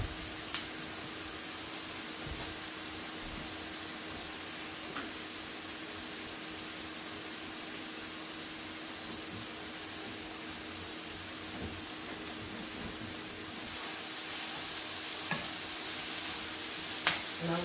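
Chicken breast stir fry with chopped green onions sizzles steadily in a pan, a continuous close frying hiss with faint scattered pops and clicks, no talking.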